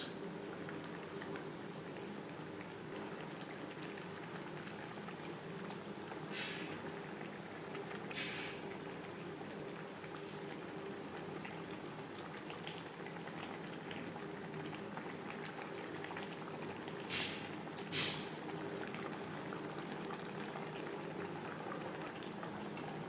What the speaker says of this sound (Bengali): 3-4 মিনিট গ্রেভি বেশ ভালো করে ফুটিয়ে নেওয়ার পর দিয়ে দেবো মাছ।